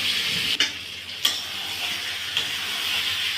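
Soybean and potato curry being stir-fried in a pan after a splash of water, giving a steady close hiss of sizzling with a few sharp scrapes and knocks from the stirring spoon.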